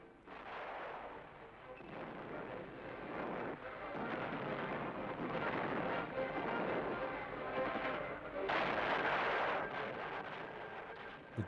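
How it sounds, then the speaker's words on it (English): Artillery bombardment of besieged Warsaw: a continuous roar of rumbling, overlapping blasts with no clear gaps, dense and heavy throughout, swelling louder near the end, with no speech. "the city was being pounded by artillery."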